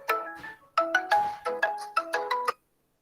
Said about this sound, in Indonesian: Bentar, telepon.